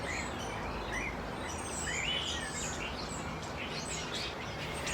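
Birdsong carries outdoors, several faint chirping phrases scattered over a steady broadband background with no talking.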